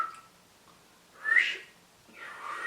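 A person whistles a few faint, breathy tones in short separate bursts with quiet gaps between, thin and tentative rather than a steady melody.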